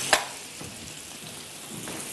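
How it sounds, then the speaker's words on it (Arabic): Onions hitting a pan of butter and oil: one sharp splash of sizzle, then a constant close hiss of frying that runs to the end. "وبعد كده هننزل بالبصل."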